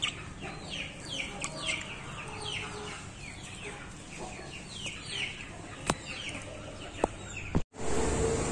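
A sick chicken that is shivering with raised feathers and has an impacted crop that will not empty makes soft, repeated clucks and murmurs. The calls are fairly close and run through a low background hum.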